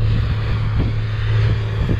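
Eight-wheeled tractors working a field during sowing, one discing and one seeding behind it, give a steady droning engine hum with a strong low tone, close and continuous, no voices.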